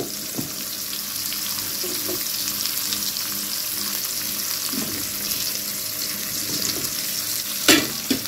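Bitter gourd pieces frying in a hot pan, a steady hiss of sizzling oil throughout with occasional scraping of a spatula and one sharp clink near the end.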